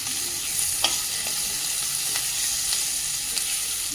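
Onion sizzles in hot oil with salt and turmeric, a constant hiss broken by a few light scraping stirs of the spoon, with no voices.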